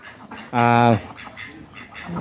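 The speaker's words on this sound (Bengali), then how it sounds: "হাঁস এখন আসলো" A burst of loud, nasal quacking from ducks at dusk lasting about half a second, with quieter background noise and faint murmuring around it.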